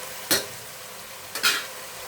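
Washed vegetables drop into a pan of cooked tomatoes, two short bursts of sizzling splatter against a quiet, steady background hiss.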